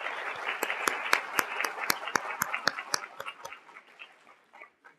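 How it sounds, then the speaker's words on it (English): An audience at a Women for Women event claps in a round of applause, individual sharp claps distinct and rhythmic, fading and thinning toward the end with no talking. "let's just give a round of applause to thank them again"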